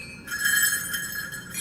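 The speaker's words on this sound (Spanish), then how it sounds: "Esta cascahuilla suena todos los instrumentos, todos sus cositos suenan diferentes" Another small bell of a Mapuche cascahuilla rattle is jingled, producing a continuous, shimmering metallic ring with a steady tone that lasts over a second and a half, fairly quiet and close.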